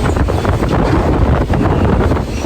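A strong gale gusts through a marina where a catamaran is moored, roaring loudly as it buffets the microphone in a constant, heavy rush with slight swells and dips, and no voices.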